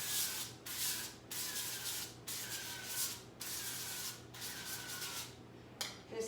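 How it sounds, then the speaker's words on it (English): Organic extra virgin olive oil spray hisses onto food in about seven short bursts, each lasting roughly half a second with brief gaps between, fairly quiet and close by with no talking. "the last thing I'm going to do is probably spray it with a little bit of fat"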